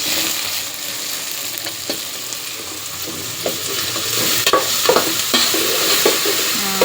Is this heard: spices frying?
yes